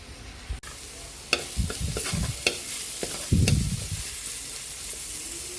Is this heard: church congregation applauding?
no